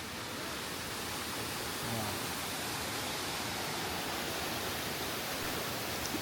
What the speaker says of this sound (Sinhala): එතන හිටපු අංකල් කෙනෙක් කිව්වා මේ ගැරන්ඩි ඇල්ල කියලා